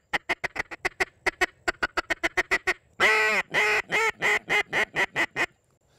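A Wingstopper duck call imitates a mallard hen: a quick run of sharp, evenly spaced quacks, then a louder drawn-out series of raspy, nasal quacks that slow and fade, close and loud with no talking.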